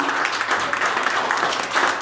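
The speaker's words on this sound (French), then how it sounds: "On peut applaudir Jean-Luc, c'est un garçon très sympathique aussi." Audience applause at the Fourchette d'or 2017 evening at Greenwich in Brussels, a dense, steady wash of many hands clapping close by and fairly loud, with no talk over it.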